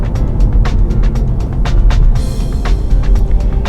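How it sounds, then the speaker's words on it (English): Steady engine and road drone from a 2016 Honda Civic with a turbocharged engine, heard from inside while driving, a continuous low rumble with faint clicks and whooshes over it. "that turbo does not sound annoying. It's got a very nice sound to it."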